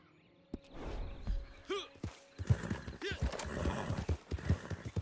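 In the game Red Dead Redemption 2 Online, horse hooves clop on hard ground alongside two whinnies, with a few faint voices mixed in.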